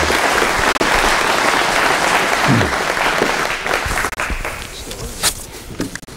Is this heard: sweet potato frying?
no